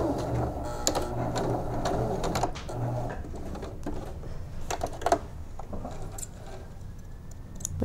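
Sewing machine stitching through layers of bias facing around a garment neckline, a steady near whirring hum with small clicks and pauses, no talk.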